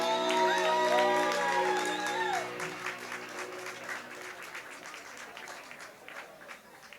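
Applause, whoops and cheering from a karaoke contest audience at a quarter-final after a sung performance, loud at first as the final sung notes fade, then thinning into scattered clapping over about seven seconds.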